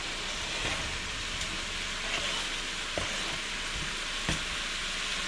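Onions tossed onto meat in a hot pan give a soft, steady sizzle with a few faint clinks and taps, quiet and close, no talking.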